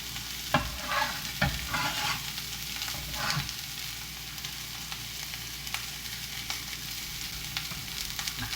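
Filling of mushrooms, preserved radish and crushed peanuts stir-fried in a hot wok, steady sizzling with repeated scraping clatters of a spatula, no voices.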